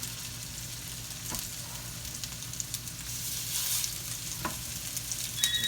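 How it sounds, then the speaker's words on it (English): Hamburger steaks searing in hot oil in a skillet give a continuous crackling sizzle at moderate level, with scattered pops and spits over a steady frying hiss. "I'm gonna sear them off in the skillet."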